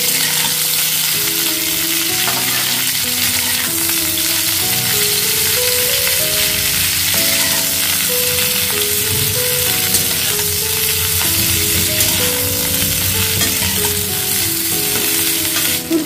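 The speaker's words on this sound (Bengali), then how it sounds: "যতক্ষণ পর্যন্ত লালচে হালকা একটা কালার আসছে ততক্ষণ পর্যন্ত ফ্রাই করে নিতে হবে ফুলকপিটা" Cauliflower florets fry in a pan until lightly reddened, giving a steady, continuous sizzle beneath a layer of melodic background music for the whole stretch.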